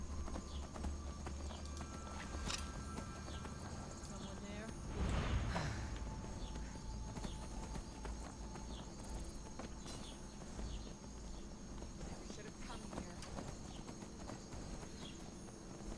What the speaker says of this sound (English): Man, I do wish this horse was a little bit faster.